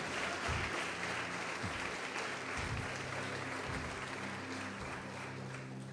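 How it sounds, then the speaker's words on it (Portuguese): Church congregation applauding during a Portuguese-language sermon, a dense, sustained roomful of clapping with a low hum of voices mixed in, holding steady throughout. "pode aplaudir Jesus, pode glorificar Deus"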